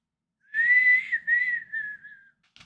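Someone whistles a short, clear wavering tune, with a longer note, then a brief break, and two more sliding notes against near silence. A faint tap comes at the very end.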